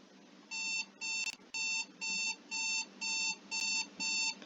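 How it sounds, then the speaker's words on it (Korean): A drowsiness-detection app's wake-up alarm rings as a steady run of eight identical electronic beeping bursts, evenly spaced and fairly loud over a faint low background hum, with no one talking. "처음 졸음이 감지되면 사용자가 잠에서 깨도록 알람을 틀어줍니다"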